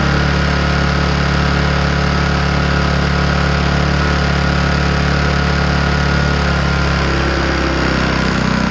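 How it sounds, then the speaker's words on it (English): A small portable generator in eco mode drones steadily at an even idle, close and loud, with a constant low hum and no voices. "So I've got the generator. It's running on eco mode"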